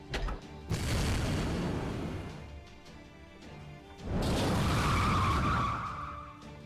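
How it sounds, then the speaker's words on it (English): Tire screeching in the Fate Grand Order video game, two loud bursts of skidding noise with a shrill, scream-like squeal rising in the second, over a rumbling game backdrop. "But that was just tires screeching though,"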